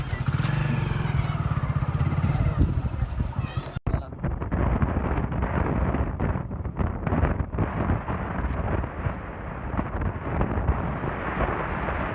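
A motorcycle rides along in rural Gujarat with a steady, rumbling engine drone, heavy wind buffeting the microphone, and people talking over it throughout.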